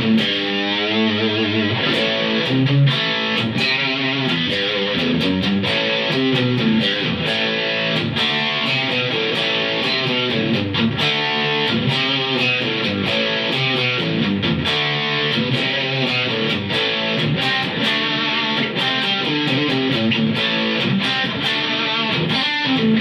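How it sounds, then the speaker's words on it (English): A heavily distorted electric guitar played through a distortion pedal plays chords and riffs continuously, with a thick, saturated, buzzing tone and no voices. "Now the distortion on the other hand will sound like this."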